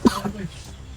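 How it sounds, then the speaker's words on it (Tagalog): A single sharp cough comes close at the start, followed by a brief rasping throat sound that fades into quiet background. "Grabe yung ubo."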